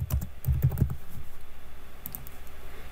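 Typing on a computer keyboard, a quick close burst of key clicks at the start and a few softer taps near the end, over a quiet low hum.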